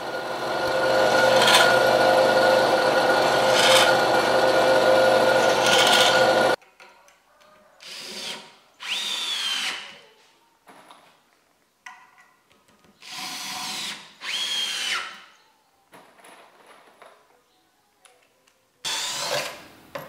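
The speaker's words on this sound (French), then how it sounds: "J'agrandis les trous des ferrures afin de pouvoir passer de la vis de 6." A power drill enlarges holes in metal fittings on the wooden load-bearing posts of a house to take 6 mm screws. One long loud whining run comes first, then a series of short bursts separated by brief pauses.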